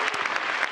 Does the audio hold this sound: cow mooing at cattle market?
no